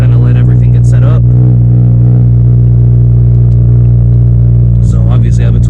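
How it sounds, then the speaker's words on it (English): A 2022 Subaru WRX with a manual gearbox idles while warming up, holding a steady, loud low drone throughout, with a person talking close by at the start and the end. "usually let the car warm up until the RPMs come down a little bit"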